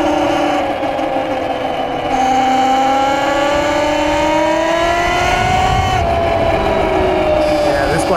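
An electric Talaria MX5 dirt bike under throttle gives a steady, loud motor whine with smoothly rising and falling pitch, sustained throughout over wind noise, with a brief shift near the end.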